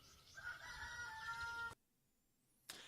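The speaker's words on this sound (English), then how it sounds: "We can hear the roosters going wild in the background" Roosters crowing in the background, a faint drawn-out cock-a-doodle-doo lasting over a second, followed by a near-silent gap and then the onset of another call.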